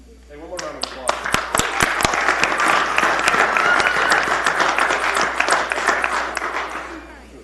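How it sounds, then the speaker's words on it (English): A town council meeting breaks into a round of applause, with loud, sharp claps close by that swell into a full burst and then taper off near the end. "one more round of applause."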